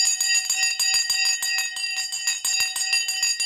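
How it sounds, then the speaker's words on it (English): Stock market opening bell: a loud, rapid, continuous electric ringing with a fast metallic clatter of strikes, sustained throughout with no voices. "The bell has now gone. It's time for the race."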